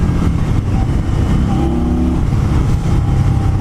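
The engine of a 2020 Indian Scout motorcycle drones loudly and steadily while riding, a continuous low rumble with wind rush and no break across the whole stretch.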